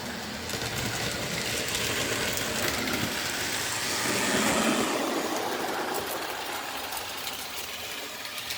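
A Lionel O gauge model train runs steadily, a continuous broadband rumble and clatter that swells briefly midway, close and fairly loud with no talk.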